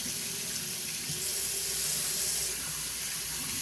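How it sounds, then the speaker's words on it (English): Tap water runs steadily over an Indian mackerel being filleted in a sink, a continuous close hiss and splash with no talking. "run some water through the body to help with the process of filleting the fish"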